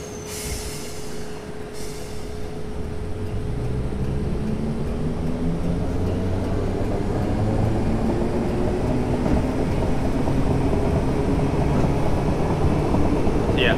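A train pulling out of a station in Train Simulator 2018, a low rumble and motor whine that build steadily and rise in pitch as it gathers speed over many seconds, with no talking.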